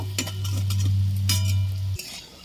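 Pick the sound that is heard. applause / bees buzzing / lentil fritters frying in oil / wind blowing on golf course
lentil fritters frying in oil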